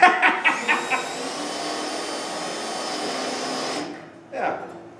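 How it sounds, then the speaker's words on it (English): Steady high-pitched whine of a power drill boring out spot welds on a truck body, running continuously for several seconds after a few short bursts, then stopping before a brief final burst, close and loud. "So I'm drilling the spot welds out here."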